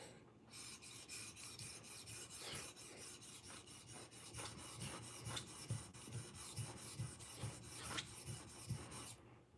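A karambit knife is worked on a sharpening stone in steady, rhythmic rasping strokes, about two a second, close and clear with no talk.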